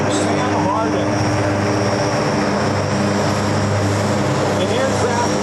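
Stearman biplanes flying in trail formation at an airshow, a loud, continuous droning of propeller engines over wide outdoor ambience, with a voice talking over it.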